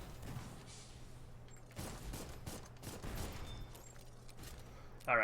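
Gunfire in the video game Dolls Nest comes in scattered, muffled bursts at a low level over a steady background drone, with an electronic chirp near the end.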